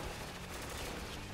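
Dense, continuous gunfire from a Spec Ops: The Line battle, with overlapping shots and bursts forming a steady loud barrage throughout, no voices over it.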